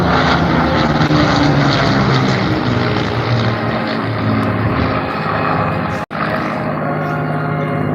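A Hawker Hurricane fighter, a British monoplane, flies at an airshow, its piston engine and propeller making a loud, steady drone that fills the whole clip, with one brief cutout near the end.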